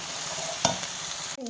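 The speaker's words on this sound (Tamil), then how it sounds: "இது நல்லா பச்சை வாசனை போகிற அளவுக்கு வதக்கிக்கலாம்." Ginger garlic paste sautés in a pan for Kerala-style chicken curry, with a steady loud sizzle, a few stirring scrapes and a clack near the end.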